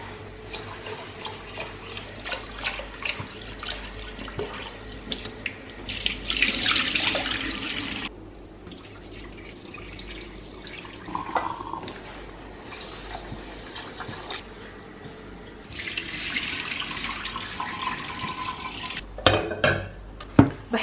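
Rice for Egyptian meat fatteh is rinsed under a running tap in a sink, a steady water stream splashing and swishing as grains are stirred by hand, with louder bursts of flow partway through and clinks near the end.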